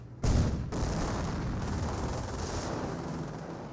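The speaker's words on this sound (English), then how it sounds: "Machine gun bunker." A Company of Heroes machine gun bunker opens up in a dense, sustained burst of rapid gunfire that starts abruptly and holds loud and steady to the end.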